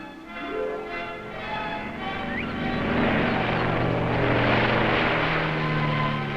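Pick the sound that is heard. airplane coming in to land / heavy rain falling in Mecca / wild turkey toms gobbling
airplane coming in to land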